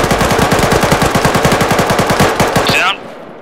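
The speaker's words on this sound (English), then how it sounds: "Good shooting." Automatic gunfire in the video game Arma 3: a loud, close, rapid and evenly spaced string of shots runs for nearly three seconds, then cuts off abruptly into quiet.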